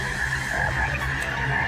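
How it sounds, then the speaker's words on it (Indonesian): Frogs croak steadily and close by in a dense, continuous chorus, with no voices. "Katak"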